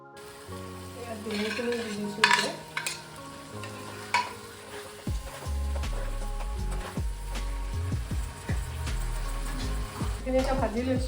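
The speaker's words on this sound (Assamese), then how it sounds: "এতিয়া মই শাক আৰু আলু দি অকণমান ভাজি লৈছোঁ।" Greens and potatoes fry in a pan for an Assamese home-cooked meal, a steady close sizzle with repeated scraping stirs and light clinks of the utensil against the pan.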